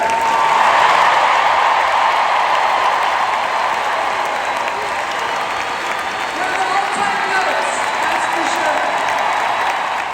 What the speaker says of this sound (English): let's give a round of applause to Lisa Bluter.